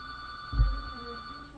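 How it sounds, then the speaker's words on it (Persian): A telephone rings with a steady electronic tone throughout, joined by a short low thump early on. "یه نفر بیاد اینجا این تلفن‌ها رو هم جواب بده"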